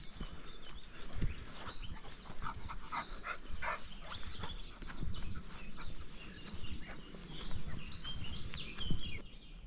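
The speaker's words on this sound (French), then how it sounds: "juste le bruit des oiseaux." Birds chirp and call throughout a quiet outdoor setting, with short bright calls scattered over a low background rumble and occasional thumps.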